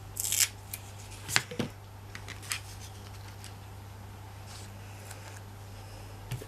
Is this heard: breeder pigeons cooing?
no